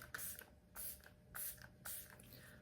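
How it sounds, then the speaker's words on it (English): Four quick hissing bursts of setting spray misted from an LA Girl multitasking matte-finish bottle, evenly spaced and close by, with no talking. "it's a multitasking setting spray and it's a matte finish"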